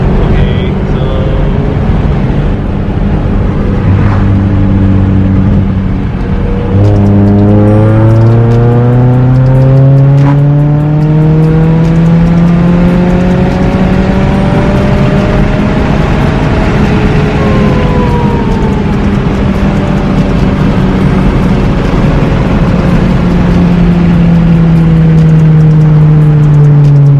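A turbocharged car on E85 pulls hard at 23 psi boost, its engine note climbing loudly through several gears with rising, then dropping pitch at each shift, heard from inside under occasional speech.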